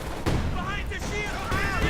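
Battlefield gunfire from the WWII strategy game Company of Heroes 2 cracks out in several sharp reports over a dense, noisy combat backdrop, with whistling tones and rumble mixed in.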